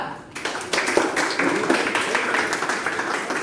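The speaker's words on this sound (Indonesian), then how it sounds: "tepuk tangan dulu kelompok 2" A classroom group claps together for a presenting student group, a burst of fairly loud, close, overlapping hand claps that starts abruptly and keeps going steadily.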